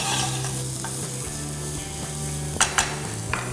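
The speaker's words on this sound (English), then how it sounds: "I'm going to saute the onion till they are nice, light, translucent." Onions and leeks sauté in a pan for a quiche, giving a steady close sizzle with the scrape and clatter of stirring, and a few sharp knocks near the end.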